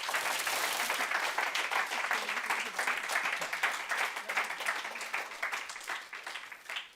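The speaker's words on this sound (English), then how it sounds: "give them a big round of applause" Steady applause from an energy forum audience, dense clapping that holds at a moderate level and gradually thins out toward the end.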